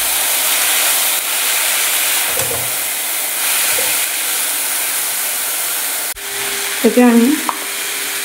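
Mixed leafy greens fry in a pan with a steady, close sizzle that holds for the whole stretch, broken near the end by a short burst of clatter from stirring.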